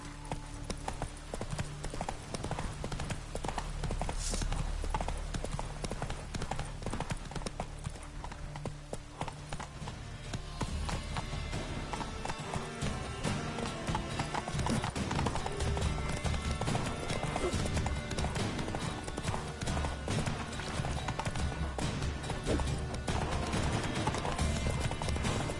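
Horse hooves clip-clop steadily at a gallop in The Witcher 3, with brief whinnies, over a dense, continuous game soundscape of music and effects; a voice speaks occasionally.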